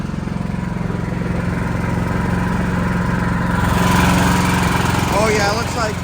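A backup generator engine runs steadily through a scheduled test, a loud continuous mechanical drone with a strong low hum, while a voice talks over it.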